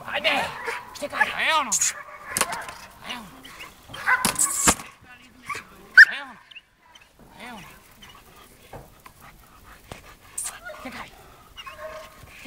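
A Belgian Malinois in a bite-work exercise outdoors, with sharp barks, whimpers and panting scattered through the clip and a handler's urging shouts over them.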